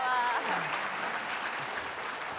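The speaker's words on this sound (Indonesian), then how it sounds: "Tepuk tangan untuk Pak Iwelwel." Audience applause at a comedic political skit show, a broad wash of clapping that starts loud and slowly settles, with voices calling out briefly at the start.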